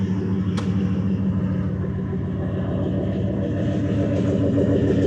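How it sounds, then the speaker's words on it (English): A 1976 Chevrolet Silverado C20 crew cab's 454 big block V8 with dual exhaust idles continuously, a deep, steady rumble, loud and close, with a low throbbing pulse and no voices. "Nice big block sound."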